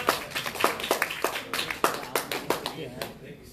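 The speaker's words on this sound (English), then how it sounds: "Let's give a round of applause." A small audience at a motivational speaking event gives a round of applause, distinct scattered claps from a few people with speech mixed in.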